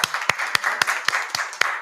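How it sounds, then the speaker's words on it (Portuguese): An audience claps at an education commission event in Rio Grande do Sul, with a burst of applause and several sharp, evenly spaced claps that stand out clearly through the short clip. "Uma salva de palmas, então,"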